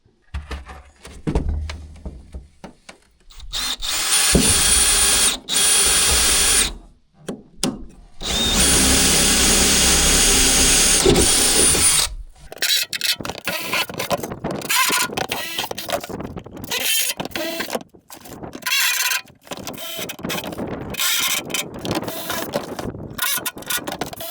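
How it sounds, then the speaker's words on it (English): Power drill driving screws to fasten a plastic liner inside a dump trailer, with loud sustained whirring bursts separated by pauses, then rattling, clicking handling noises later on. "drives the screw, and it should go in quickly"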